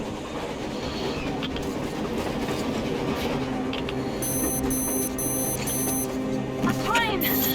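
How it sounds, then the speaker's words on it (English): A train rumbles steadily past in the post-apocalyptic shooter Metro Exodus, a continuous loud rolling clatter with a brief high ringing tone midway, while voices are heard under it. "A damn train on the surface!"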